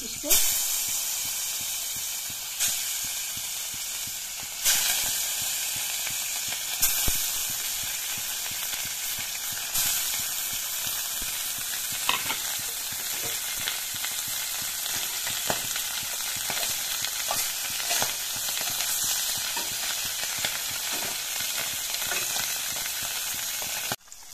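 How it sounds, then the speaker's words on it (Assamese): Fish pieces frying in hot refined oil in a wok, giving a steady loud sizzle and hiss throughout, with occasional clicks and stirring sounds and a voice talking at times. "এতিয়া কেৰাহীত মই ৰিফাইন দিছো গৰম হৈছে ইয়াতে এতিয়া মই মাছখিনি বহুৱাই দিম"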